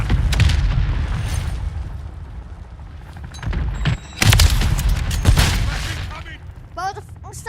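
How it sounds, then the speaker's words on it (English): Mortar strike explosions in Call of Duty MW3 land as several separate loud blasts with sharp cracks between rumbling battle noise; a voice speaks partway through. "Hostile mortar strike."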